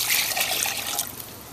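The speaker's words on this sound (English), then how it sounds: "You're going to add 2 1/4 cups of water." Water poured into a pan of granulated sugar for a poached-pear syrup, a steady close splashing trickle that runs continuously and eases slightly toward the end, with no talking.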